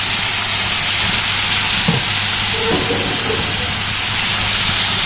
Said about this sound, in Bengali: হলুদের গুঁড়া, ঝালের গুঁড়া, এগুলো ভালো করে কষিয়ে নেব